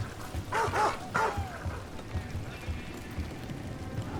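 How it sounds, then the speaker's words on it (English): A dog barks in Dragon Age: The Veilguard, a video game: a quick cluster of three or four moderately loud barks near the start, then fading into quiet game ambience. "Where's that barking come from?"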